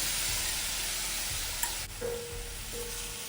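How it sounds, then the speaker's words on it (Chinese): Desiccated coconut stir-fried with palm sugar syrup in a wok, a steady close sizzle with brief scraping and stirring knocks and a faint high whine. "中火将白椰丝炒香"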